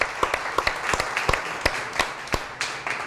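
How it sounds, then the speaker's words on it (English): An audience claps at a business talk, with sharp, dense hand claps repeating steadily for about three seconds, close and fairly loud, with no voices over it. "I want to give a round of applause to everyone at Capital One Spark"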